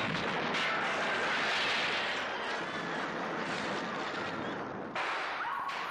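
A long, roaring film explosion effect made with gas guns rumbles for several seconds, loud and broad, then drops off sharply near the end with a lingering hiss.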